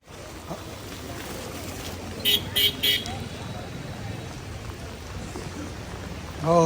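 Steady rain falling at a market in Jabalpur, a constant hiss throughout with a few brief car horn toots partway through and a voice near the end.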